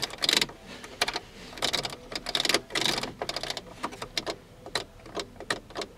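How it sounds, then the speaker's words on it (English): A series of sharp, irregular relay clicks and ticks in a Chevy S-10 pickup with the key on, some closely bunched and some spaced apart, fairly close by with no voices. "hear a relay clicking but I got nothing else"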